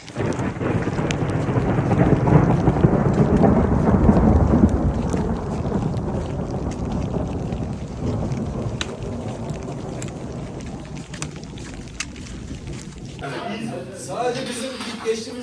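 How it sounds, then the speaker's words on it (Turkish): Steady rain mixed with rumbling thunder and some hail during an outdoor hike in Turkey, loud and close for most of the stretch and easing toward the end, with people talking over it. "Sonra hafif yağmur atıştırmaya başladı."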